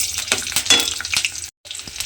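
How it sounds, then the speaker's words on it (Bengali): Green chillies and panch phoron frying in hot oil, a steady close sizzle with crackling pops and stirring scrapes, one brief drop to silence, no talk. "কাঁচা লঙ্কা আর 5 ফোড়নটা একটু আমি ভাজা ভাজা মতো করে নেব।"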